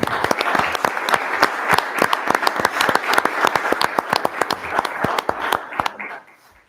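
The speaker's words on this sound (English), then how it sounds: "Please give her a round of applause." Applause at a town board meeting: a room of people clapping in dense, crisp bursts for several seconds, loud and close, before tapering off quickly at the end.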